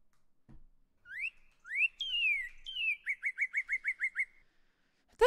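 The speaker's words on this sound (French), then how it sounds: "Il y a un petit bruit d'oiseau." Birdsong in the video game Minecraft: rising chirps and a descending whistle, then a quick even series of about eight short tweets, clear and alone against silence.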